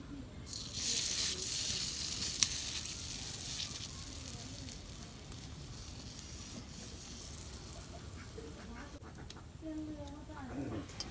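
A batch of food frying in a hot pan on a home stove, a steady crackling sizzle that is loudest early on and eases off, with some handling noises near the end.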